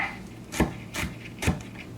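A knife chops garlic and vegetables on a wooden cutting board, three distinct knocking strikes spaced about half a second apart, close and fairly loud with no talking.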